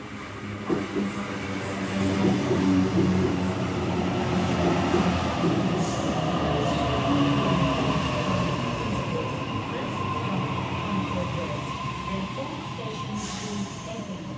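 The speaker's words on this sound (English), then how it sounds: "we have a Waratah arriving on platform number" A Sydney Waratah electric suburban train, a Hornsby service, rolls into a platform at North Strathfield station, with a rumbling drone of wheels and motors, faint squeals and clatter, and the loudness holding steady as it draws in nearby.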